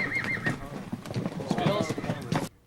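Wild rookie horses being gathered and sorted on a ranch neigh and whinny while hooves clip-clop steadily close by, with a person talking over the animals until the sound cuts off abruptly.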